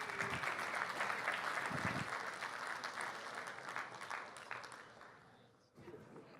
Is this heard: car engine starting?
no